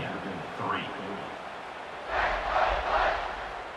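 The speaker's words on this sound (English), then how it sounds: "this crowd now ready to get behind them" Stadium crowd in the video game College Football 26 swells into a loud, broad cheer before kickoff of West Virginia at Texas Tech, rising for about a second under ongoing commentary.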